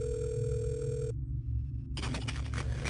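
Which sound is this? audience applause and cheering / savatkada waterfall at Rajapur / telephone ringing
telephone ringing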